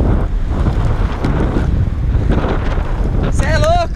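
Wind roaring steadily across the microphone while someone skates on three-wheel inline skates, a constant loud rumbling buffet throughout with a brief high whistling or squealing tone near the end.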